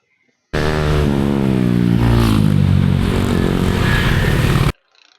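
A motorcycle engine revs hard and close for about four seconds, a loud steady rasping roar with shifting pitch that then cuts off abruptly.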